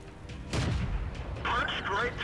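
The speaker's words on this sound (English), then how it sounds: "I'm being hit by even more artillery" Artillery shells strike a tank in the World of Tanks game: a heavy booming impact followed by rumbling and crackling debris, with a voice talking over part of it.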